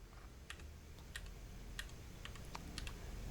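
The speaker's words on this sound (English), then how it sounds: "glow in the dark as we strike keys, we can see which keys were hit" Keys on a Keychron Q6 mechanical keyboard with glow-in-the-dark lighting are struck in a steady run of crisp, faint clicks over a low background hiss.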